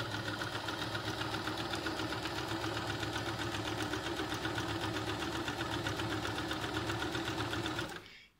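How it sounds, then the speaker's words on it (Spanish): Domestic sewing machine running steadily as it stitches through quilted fabric and foam for a multipurpose fabric basket, a continuous close whirring rattle that holds for about eight seconds and then stops. "Así que voy a máquina, le paso los pespuntes"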